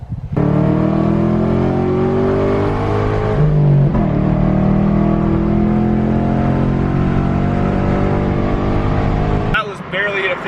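A car engine revs and pulls hard through the gears, a loud close droning roar with rising pitch and a brief shift dip near the middle, continuing for about nine seconds before cutting off.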